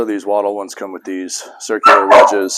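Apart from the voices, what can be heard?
dog barking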